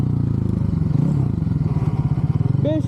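Motorcycle engine idling and pulsing during wheelie practice, a steady rhythmic low throb with a short rising rev near the end, close and loud.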